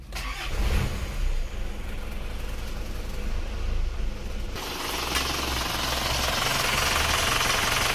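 Diesel engine cranking and firing up after an injection pump timing adjustment, then settling into a loud, steady clattering idle with a rapid knocking rhythm, close up with no talk.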